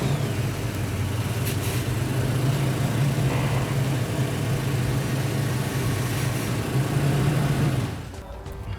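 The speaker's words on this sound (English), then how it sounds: "Start the vehicle up and turn this wheel so I can get to this screw back here." A 2016-2023 Toyota Tacoma truck engine running at a steady idle, a low even rumble close by that drops off near the end.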